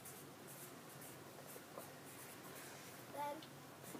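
A teacher writes on a classroom board, making soft, repeated scratchy strokes at low volume against a quiet room, with a brief faint voice-like sound near the end.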